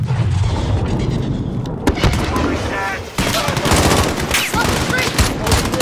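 Loud, dense gunfire from Call of Duty Modern Warfare (2019) in an embassy firefight, with overlapping automatic bursts and sharp single shots that clutter the whole stretch, and shouted voices mixed in.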